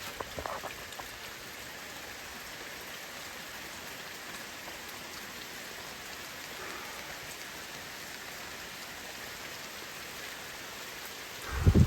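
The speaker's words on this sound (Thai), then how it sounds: "รอให้ฝนหยุด" Steady rain falling on a surface, a constant wash of droplets with no voices, ending in a brief louder knock.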